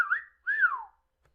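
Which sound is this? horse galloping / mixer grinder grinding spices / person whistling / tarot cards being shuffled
person whistling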